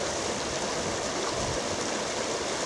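Water rushing steadily through a river sluice on the outskirts of a village, a continuous broadband roar of flowing water close by with no talk.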